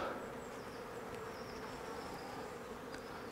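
Honey bees hum in a dense, steady swarm drone while comb is lifted out of a nucleus colony and moved into a hive, close and continuous, with no talking.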